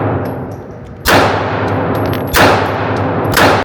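A Draco pistol, a chopped-down AK, fired three times, each shot a loud, close, sharp crack with a ringing metallic tail, spaced about 1.3 seconds apart, with no talking.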